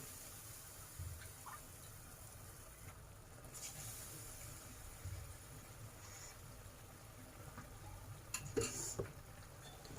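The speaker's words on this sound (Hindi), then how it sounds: "इसको स्लोली आपको अच्छे से ऑयल को मिक्स करना है ये चाशनी और बेसन में" Hot oil being stirred into a Sindhi maisoo batter of sugar syrup and gram flour, a soft continuous bubbling hiss with occasional light scrapes and clinks from the spoon, fairly quiet and close, with no talking.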